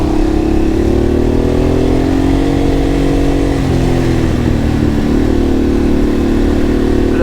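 A classic Honda Transalp motorcycle rides on a mountain road, its loud engine droning steadily up close with gentle rises in revs and constant wind rush.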